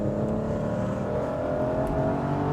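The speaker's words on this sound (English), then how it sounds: "So we rev the engine out" A 2006 MINI Cooper S John Cooper Works GP engine revving out under load, a steady, loud droning whine with rising pitch heard from inside the car, no talking.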